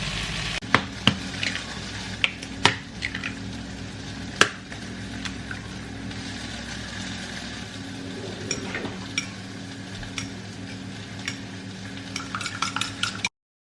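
Eggs stirred into bitter gourd (ampalaya) frying in a pan, a steady sizzle under repeated clinks and scrapes of a utensil against the pan, close and continuous.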